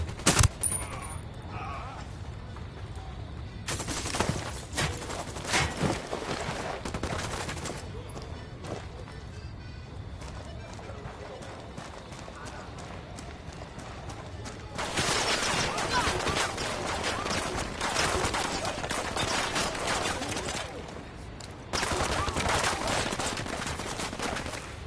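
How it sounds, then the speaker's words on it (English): Bursts of gunfire in a PS4 video game, loud clusters of rapid shots broken by quieter stretches, with speech mixed in. "I'm opening fire on these shitheads."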